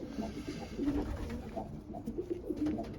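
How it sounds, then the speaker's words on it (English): A red pigeon with white flight feathers and a splash pattern on its head coos softly at close range, several low rolling coos repeating over the quiet hum of a loft. "Red pigeon with splash pattern on its head."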